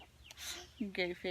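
Newly acquired farm chickens cluck a few times in quick, faint bursts near a coop, with someone speaking briefly.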